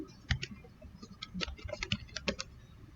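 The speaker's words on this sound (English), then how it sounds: "For the mind map itself, you can type in it like here." Brisk typing on a computer keyboard while writing text into a mind map, an irregular run of close, crisp key clicks lasting a few seconds with no talking.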